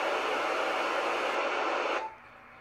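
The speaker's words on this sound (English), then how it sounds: "FM has definitely produced a much louder, harsher static" Harsh FM static from a Yaesu FT-817 radio, a loud, even hiss that holds for about two seconds, then cuts abruptly to a much quieter, duller noise.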